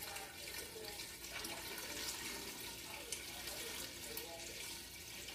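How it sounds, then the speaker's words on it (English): Tea being poured into a kombucha jar: a steady, faint rushing stream of liquid runs continuously throughout, with no talk. "I'm just going to pour this tea in"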